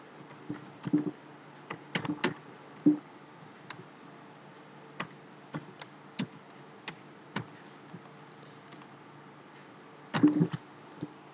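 Typing on a computer keyboard while entering data into an Excel 2010 table: sparse, irregular key clicks, close and crisp, with a short flurry near the end over a quiet background hum.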